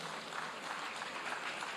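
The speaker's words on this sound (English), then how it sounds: "Please, a round of applause for him." An audience at a women's day conference applauds in a brief, dense wash of clapping heard from some distance, steady and fairly soft.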